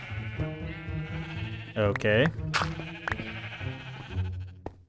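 Repeated sheep bleats from a Minecraft wool farm, several wavering cries overlapping in quick succession, with a person speaking briefly over them.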